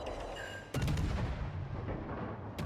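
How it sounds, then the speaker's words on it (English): Warship guns blasting in the World of Warships Legends naval battle game: a heavy booming salvo lands around 0.7 s and rolls into a sustained rumble of gunfire, with another sharp report right at the end; no talking. "we'll just keep shooting guns and trying to fire spam"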